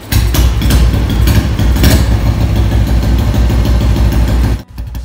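Royal Enfield Bullet motorcycle started with the choke on, running as a loud, close, steady thumping idle for about four and a half seconds before the sound suddenly cuts off near the end.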